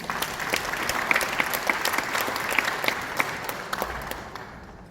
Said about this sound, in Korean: 우리 김도식 정부의장님 박수 한번 드립니다